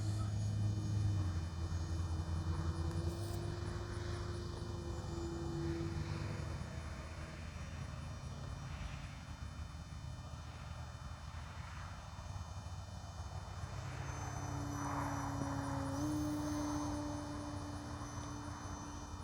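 Small Durafly Lucky Gallon RC model airplane engine whining steadily at a distance, its pitch rising and falling as it passes, over faint insect chirps in the background.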